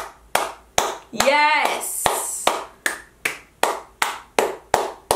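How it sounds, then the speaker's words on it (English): A small group claps in a slow, steady rhythm of sharp, close hand claps, about a dozen in a row, interrupted near the start by a loud excited shout and some laughter. "So a round of applause for the cousins with self-control."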